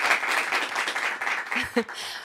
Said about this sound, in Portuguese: As pessoas estão a bater palmas, no fundo.